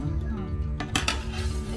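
Steel plate set down in a home kitchen while dosas cook, giving a couple of sharp metallic clinks against a low background hum and faint voices.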